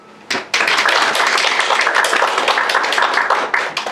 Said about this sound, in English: Please help me welcome him with a big applause.